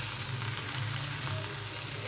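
Dried prawns and chopped brinjal fry together in a pan with a steady, even sizzle and hiss that runs throughout at close range.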